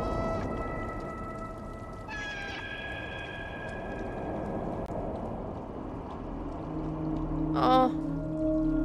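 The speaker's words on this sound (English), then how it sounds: "I hear another cat." A cat meows in the video game Stray, a short rising call standing out against a steady ambient game backdrop with low droning tones.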